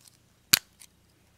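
A single sharp metallic snip or click of scissors, followed by a fainter double click a moment later, close and otherwise quiet.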